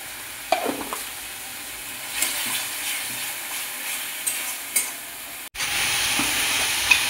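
Spices fry and sizzle in hot oil as they are stirred for a pointed gourd curry with a pinch of sugar, a steady close hiss broken by scraping stirs and a brief clatter, with no talking.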